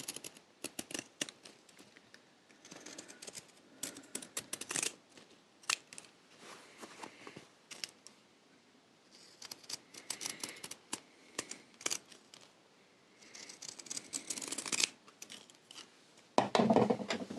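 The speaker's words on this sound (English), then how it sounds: "Use my normal dressmaking scissors, and I'll snip that excess tab" Repeated crisp snips of dressmaking scissors cut through fabric lining in quick bursts, with short pauses between groups of cuts and some rustling of cloth.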